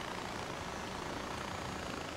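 Helicopter from the video game Far Cry 4, a steady loud rotor and engine roar filling the whole clip without pause, no voices over it.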